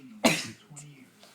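One sharp, close sneeze bursts out and fades quickly, followed by faint breathy vocal sounds in a quiet room.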